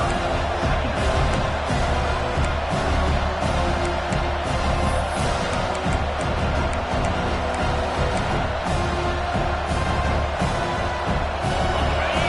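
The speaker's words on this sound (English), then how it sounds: "It's early, but this crowd is fired up. Listen to this noise here." A stadium crowd roars steadily through an early stage of an American football game, a loud, continuous wash of cheering with no pause.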